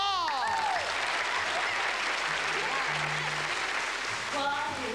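Dense studio audience applause at a television variety show continues steadily throughout, with voices heard over the clapping at the start and end.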